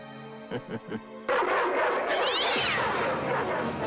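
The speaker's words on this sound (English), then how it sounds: "Here, kitty, kitty, kitty. Dinner time. Is my little precious hungry?" A house cat meows at dinner time, with three short rising meows up close, followed by a long, loud, harsh stretch of noise and commotion.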